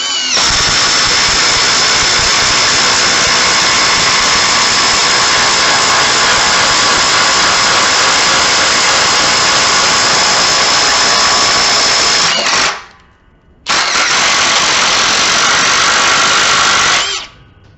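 Ridgid cordless drill boring a one-inch hole, running loud and steady for about twelve seconds, cutting out briefly, then whining back up for a few more seconds before stopping.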